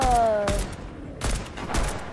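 Sniper gunfire in Fortnite cracks out in several sharp, loud reports spaced unevenly, each with a brief booming tail, with a fading tone at the start.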